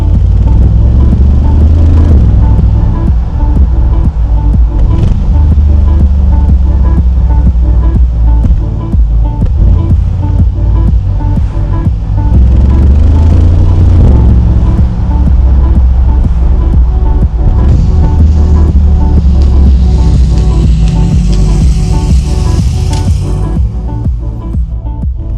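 A Mercedes G63 AMG driving, a heavy low engine rumble and road roar that rise and fall steadily under strong wind noise, loud and close throughout.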